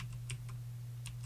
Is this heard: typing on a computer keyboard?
yes